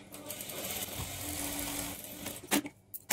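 A sewing machine stitching along the edge of blouse fabric at a half-inch margin, a dense steady whir close by for a couple of seconds, then stopping with a few sharp clicks and knocks.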